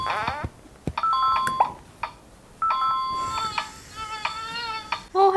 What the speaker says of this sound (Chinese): 放在闹钟上就会发出闹钟的声音